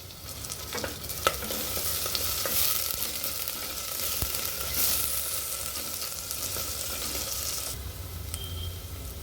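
Onions and tomato sauté in a pan with curry leaves, giving a steady close sizzle with occasional spoon stirs and scrapes, and no talk.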